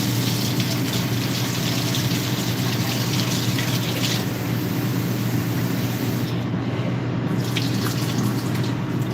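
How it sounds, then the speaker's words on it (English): Tap water runs steadily into a sink as lettuce is rinsed beneath it, a continuous close hiss and splash with no talking over it. "Now I'm gonna rinse my lettuce off"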